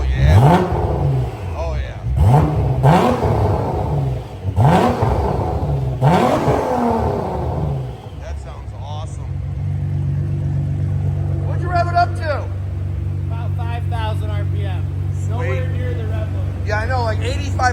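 Nissan GT-R twin-turbo 4.1L V6 on a cold start through a 4-inch valved exhaust, blipped in several loud, sharp revs that rise and fall, then settling to a steady idle while people talk over it.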